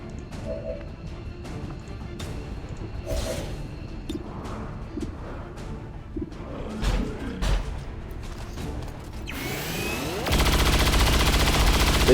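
Rapid bursts of sci-fi gunfire from XCOM 2 Long War on insane difficulty at a blacksite facility, aimed at a sectopod, with sharp repeated shots, whooshes and a loud sustained blast of noise at the end.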